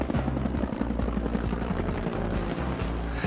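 A Bell CH-135 Twin Huey military helicopter throbs steadily with a strong, rhythmic rotor beat over a dense engine roar, loud and close throughout.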